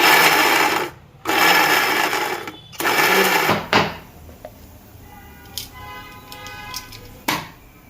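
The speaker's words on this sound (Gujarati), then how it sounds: "અને મિક્સરમાં પીસી નાખીએ" A kitchen mixer grinder pulses green chillies and ginger in three short, loud motor bursts, each about a second long, followed by quieter clinks and small handling sounds.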